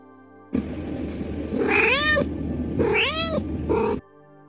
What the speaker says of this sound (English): Here you go, some funny cat videos.